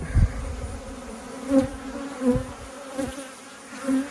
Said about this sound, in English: I've obviously got some robbing activity going on. Bees sniffing around this hive and this one and this one.